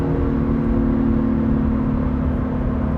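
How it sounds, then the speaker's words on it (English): Acura NSX engine revs during a quick paddle-shifter downshift, a close, loud, steady mid-pitched hum heard from inside the car. "if you want to roll your own gears, you have paddle shifters, and shifts are very, very quick. Downshifting."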